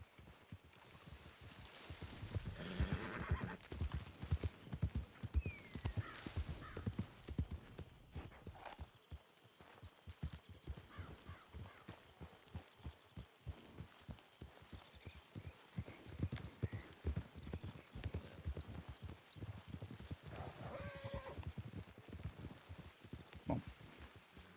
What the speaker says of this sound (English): do not get up until you hear the sound of our horses fading into the distance